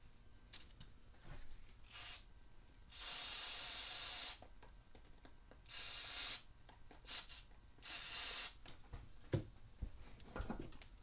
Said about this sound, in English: There's a port right there, so we'll blow that with the compressed air and make sure that it's working good.